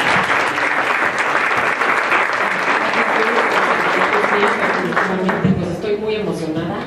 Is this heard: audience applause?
yes